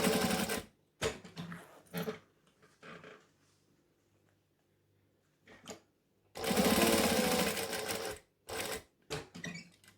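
A sewing machine stitches a bag in short, fast mechanical bursts separated by quiet pauses, with a longer run of rapid needle hammering near the end, close and clear with no talk.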